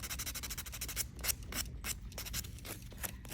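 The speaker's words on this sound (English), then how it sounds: "Once you've filed it, you can buff it." A fingernail being buffed after filing during a nail technician exam, giving a steady series of soft, close rubbing strokes with brief brighter swipes, alone without talk.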